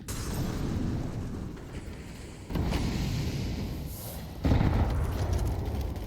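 Heavy HE grenade blasts from Counter-Strike 2, heard during a professional esports match on the Overpass map: one sharp boom near the midpoint and a louder one shortly after, both over continuous low game rumble.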